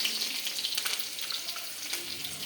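Mustard seeds fry in a hot pan with a dense, steady crackle and sizzle of small pops, close and alone with no talking.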